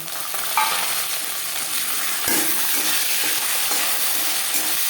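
Grated coconut and chickpeas fry together in a pan, a loud continuous sizzle close up with scraping stirs and a few clanks, no talk.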